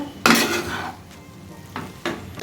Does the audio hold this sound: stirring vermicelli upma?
yes